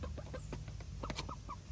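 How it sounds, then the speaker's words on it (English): A small backyard flock of chickens, including a couple of newly added hens, clucks in short, quick bursts close by, with several overlapping soft calls over a low steady hum. "We recently added a couple new hens to our flock."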